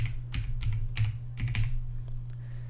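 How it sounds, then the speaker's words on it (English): Quick bursts of keystrokes on a computer keyboard, a short word typed in rapid clicks over a steady low electrical hum, close and alone. "We're going to type in Tracker."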